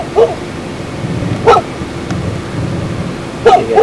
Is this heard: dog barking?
yes